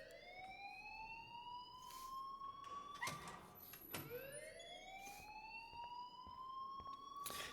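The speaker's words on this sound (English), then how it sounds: "Yeah, middle of fire alarm." A school fire alarm in the Life Is Strange video game wails in repeated rising electronic sweeps, loud and steady, with a couple of sharp clattering knocks partway through.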